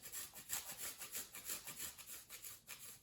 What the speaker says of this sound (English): And I got a nice little piece of fresh ginger here.